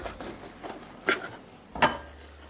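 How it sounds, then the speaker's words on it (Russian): A knife slices pieces of bread on a kitchen board in a few separate close cuts, each one a crisp crunchy scrape, with the faint sizzle of a stovetop behind them. "отрежу пару кусочков хлеба."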